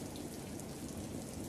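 Steady rain falls through the night, a dense, even hiss of drops on surfaces that holds at a moderate level without a break and with no voices.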